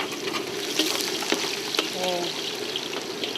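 Garlic sizzling and frying in oil in a pan as the first step of tortillas made with pancetta and chorizo, a steady close crackle with occasional stirring scrapes and a brief voice in the background.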